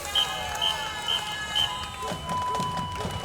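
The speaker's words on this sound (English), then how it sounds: "that's the sound of a whistle preceding a marching band" A whistle at a strawberry festival parade sounds ahead of a marching band, four short shrill toots at an even pace, followed by a longer tone over the outdoor crowd noise and distant hubbub.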